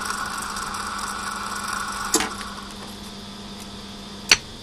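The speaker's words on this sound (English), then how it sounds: "You hear the brake engage." An Emotator 1102MSB antenna rotator coasts to a stop with a faint steady mechanical hum, then its brake engages in a sharp clunk, followed by a second, louder clack a couple of seconds later.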